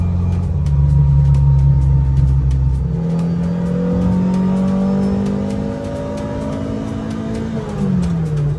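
A 1981 Ferrari 308 GT4 Dino moves through traffic, its engine droning loud and close from inside, pitch climbing steadily as it accelerates through the gears, with a brief drop near the end.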